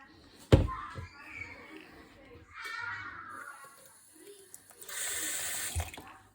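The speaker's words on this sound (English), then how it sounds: "I'll add in a bit more water just to thin it out a bit" Water poured from a tap into a big batch of spicy Hainanese-style chili sauce to thin it, heard as two short splashing pours with a sharp clatter before them.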